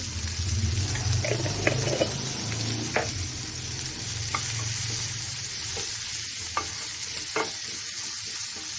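Ingredients for a Tamil lentil ball curry stir-frying in a pan, with a continuous sizzle and scattered utensil scrapes and taps against the pan, close and steady with no voices.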